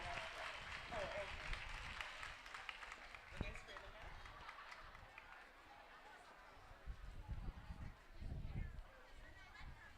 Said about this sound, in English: Please give Miss Sarah Norman a round of applause